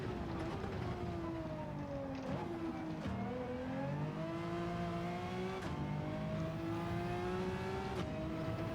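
A Pagani Zonda R engine in Gran Turismo 7 revs hard around Sardegna Road A, its pitch repeatedly climbing through the gears and dropping on each shift, loud and continuous throughout.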